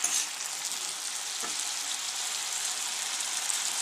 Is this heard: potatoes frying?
yes